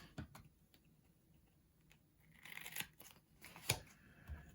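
A couple of quick, crisp scissor snips cutting through washi tape, fairly quiet and close, with soft handling rustles in between.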